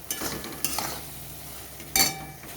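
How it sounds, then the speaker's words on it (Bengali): Soybeans stir-fried with dry spices in a pan: a few scraping stirs over a soft, steady sizzle. "এবারে এই মশলার সাথে আমি কিছুক্ষণ কষিয়ে নেব"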